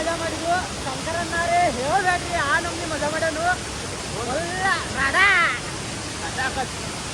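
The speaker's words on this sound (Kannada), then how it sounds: "ಇಲ್ಲಿ ಫಾಲ್ಸ್ ನೋಡ್ರಿ ಮಸ್ತ್ ಬೀಳಾತದ" Hidden Falls waterfall, a steady broad rush of falling water heard nearby, with voices talking over it throughout.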